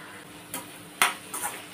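Chilli chicken being stirred and mixed in a pan: a few sharp scraping and clinking hits of a utensil against the pan, close and brief, over a low background hiss.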